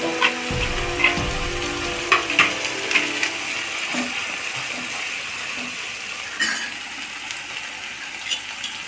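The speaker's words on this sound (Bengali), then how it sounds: "এবার আমি এতে দেব করে রাখা সর্ষে পোস্ত পেস্ট, আর নারকেল যে দিয়ে করে রেখেছিলাম যে পেস্টটা" Mustard-poppy seed paste and coconut paste go into hot oil in a pan and fry with a steady sizzle, while metal utensils knock and scrape against the pan in irregular clicks and clinks.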